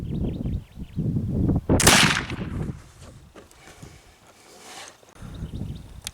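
Black powder gun fired with homemade powder outdoors, a single sharp loud crack followed by a fading echo, with muffled talk before and after the shot.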